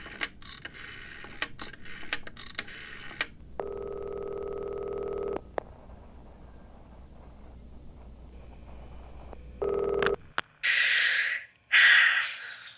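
Telephone ringback after dialing, heard as two long steady buzzing rings with a pause between, followed by clicks and then short bursts of higher electronic tone near the end.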